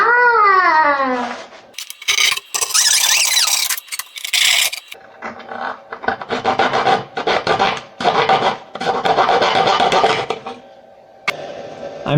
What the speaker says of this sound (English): I'm now milling the female parts for the legs into the tabletop, and I'm milling them in a pocket style.